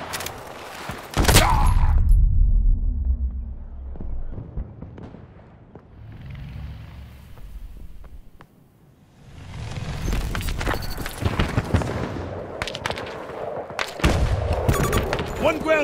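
Gunfire and heavy explosions from a military shooter video game, including grenade blasts, rumble close and loud, with booming bursts and rattling volleys that keep going after a lull in the middle.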